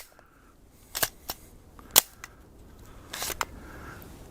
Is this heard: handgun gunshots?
yes